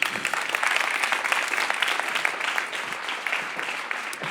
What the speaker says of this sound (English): So big applause for Sigrid Kaag.